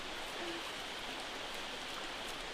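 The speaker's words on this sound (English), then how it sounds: "This creek is called Chamillan Creek." Chamillan Creek flowing steadily, a continuous broadband wash of running water close by, even and unbroken throughout with no voices.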